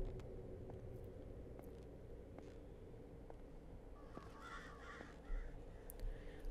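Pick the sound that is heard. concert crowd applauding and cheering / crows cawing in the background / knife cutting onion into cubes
crows cawing in the background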